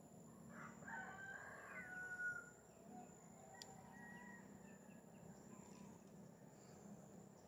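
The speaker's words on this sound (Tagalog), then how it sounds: "May mga manok din nakikita ko doon" Chickens on a small hillside farm below a scenic overlook in Sogod, Southern Leyte, cluck and crow faintly in the distance, a rooster call rising briefly near the start amid steady outdoor ambience.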